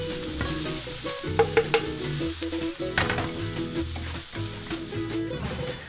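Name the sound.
onions browning in a pan with olive oil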